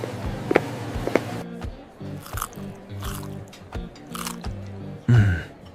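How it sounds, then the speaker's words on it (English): Close, wet chewing and crunchy bites repeat in uneven bursts, with a louder chomp near the end; no talking. "I can hear your chewing."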